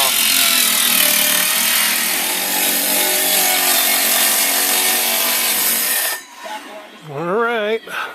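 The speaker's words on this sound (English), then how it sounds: "Cutting the frame now." A power saw cuts a window frame opening through plywood and siding on an old house, whining loudly and continuously for about six seconds before stopping, followed by brief, quieter sounds.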